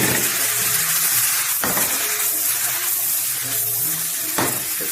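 Soaked pinto beans fry steadily in a hot pan, a continuous sizzle broken by a couple of sharp clatters of utensils or the pan, with low background hum and no talking.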